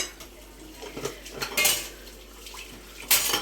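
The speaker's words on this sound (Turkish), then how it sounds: "Şimdi bulaşık zamanı." Dishes being washed by hand after a meal: plates and cutlery clink and clatter sporadically against each other close by, with a soft background hiss and no talking.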